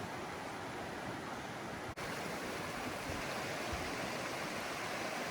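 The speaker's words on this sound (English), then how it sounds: "I need to ford this river." A cold mountain river in the North Cascades rushes steadily as it is forded on foot, a dense even hiss of flowing water at moderate level with a single brief dropout.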